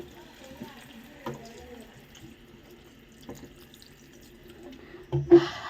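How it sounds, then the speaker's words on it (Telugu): A little water pours into brinjal curry in a pan, with faint clinks and quiet stirring before a short, louder splash and sizzle at the end, and a voice speaks softly at times. "కొంచెం వాటర్ తీసుకుందాం ఇప్పుడు"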